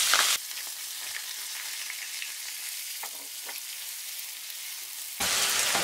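Onion and garlic fry in oil over medium heat, a soft even crackle and hiss heard close and moderately quiet, with a louder burst of sizzling at the start and again at the end.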